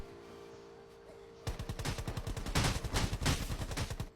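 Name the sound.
gunfire in Rules of Survival video game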